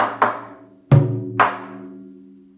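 Three taiko drum strikes ring out alone, close and resonant, with a silent gap left between the first and second hits before the last one, each boom decaying slowly.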